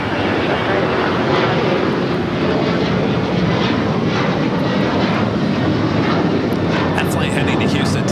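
United Airlines Boeing 737-900ER jet bound for Houston at LAX, a loud, close, continuous engine roar filling the whole stretch, with a rising whine near the end.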